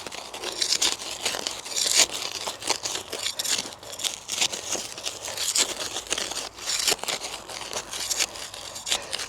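Fiskars Xact weeding tool with a stainless steel blade tearing clover out of a gravel path, giving close, continuous crunchy ripping and scraping with crackly gravel texture.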